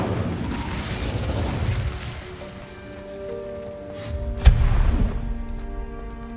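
An Incendio fire spell cast in the PS5 game Hogwarts Legacy, a whooshing magical burst that ends in a sharp pop and low rumbling boom, over steady game ambience.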